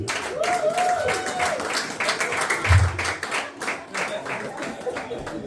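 Wedding guests at an evening reception applauding the newlyweds, a burst of clapping from a crowd mixed with voices and some cheering, fairly loud and close.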